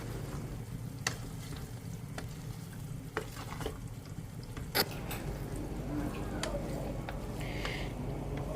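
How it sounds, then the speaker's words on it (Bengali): Beef brain fries with spices in a pan, giving a steady sizzle broken by sharp scrapes and taps as a utensil stirs it, close and continuous with no talk. "ভালোভাবে মগজগুলো কষিয়ে নিতেছি"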